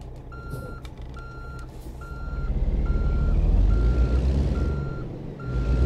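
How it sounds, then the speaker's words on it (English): A truck engine in American Truck Simulator rumbles low and builds in the middle, while a reversing beeper repeats evenly throughout and an air brake hisses briefly near the start, with no talking. "Nice new engine note."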